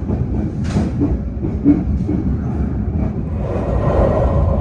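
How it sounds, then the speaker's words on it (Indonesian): The Ciremai passenger train from Bandung to Semarang Tawang rumbles past on Indonesian rails, a loud, steady low roar with rhythmic wheel clatter rising toward the end. "itu dia kereta api Ciremai ya, dari stasiun Bandung tujuan stasiun Semarang Tawang"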